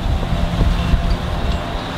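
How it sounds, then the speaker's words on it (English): Steady wind roars across the microphone for two seconds, a constant low rumble with gusty buffeting and no voices. "It's a beautiful day, very windy."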